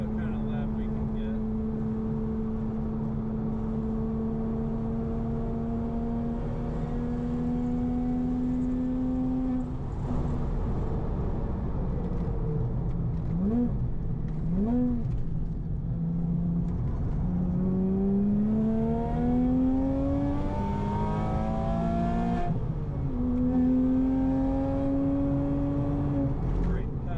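A modified Porsche Cayman S with BC Racing coilovers laps a track, its engine note climbing steadily through the gears, dipping at shifts and rising again in sweeping pitch bends, loud and close throughout.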